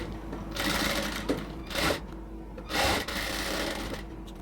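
A sewing machine runs in short bursts while double-stitching the sleeve of a cotton dress, with a whirring buzz that starts and stops several times between quieter pauses, close up and alone.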